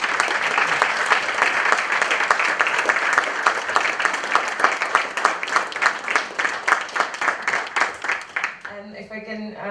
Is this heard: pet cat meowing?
no